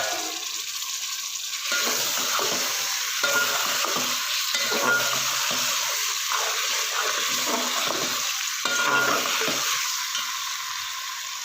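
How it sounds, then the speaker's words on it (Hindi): Potatoes are added to methi frying in a pan and stirred, with a steady loud hiss of sizzling oil and repeated scraping strokes of a spoon throughout. No voices are heard. "अब मैं इसमें शामिल करूँगी आलू"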